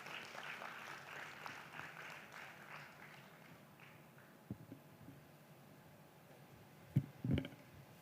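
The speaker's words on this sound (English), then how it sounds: "Can we add him another hand of applause, ladies and gentlemen?" A summit audience applauds for the COMESA Business Council CEO, steady moderate clapping from a crowd for about five seconds that fades out, followed by a few scattered taps and thumps near the end.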